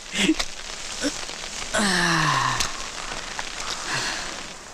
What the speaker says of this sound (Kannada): ಈ ಮಳೆಗಾಳಿಗೆ ಏನು ಕೇಳಿಸಲ್ಲ ರೀ.